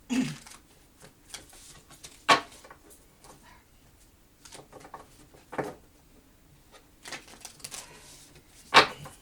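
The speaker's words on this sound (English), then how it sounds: "Get a couple more shuffles." Tarot cards shuffled by hand during a reading, giving a few sharp riffling bursts spaced several seconds apart over soft handling noise, close and fairly quiet.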